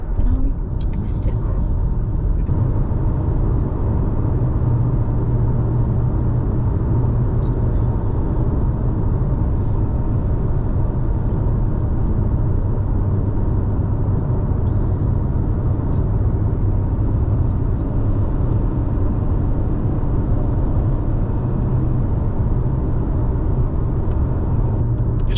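A car cruises along a road heading southeast through Arizona, a steady, loud low rumble of tires and engine from inside the cabin that continues without a break for over twenty seconds.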